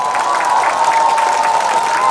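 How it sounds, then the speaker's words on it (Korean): Audience applause at a live Korean traditional music (gugak) concert: dense, loud, steady clapping from a crowd, sustained evenly throughout. "자 시원하게 박수 한번 주세요."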